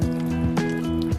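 Lukewarm water pours into sourdough dough in short, close splashing bursts, a brief wet gurgle and trickle heard alone with no talk.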